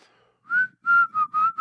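A person whistles a short run of clear, close notes, one longer tone then three quick chirps with small gaps, alone without talking.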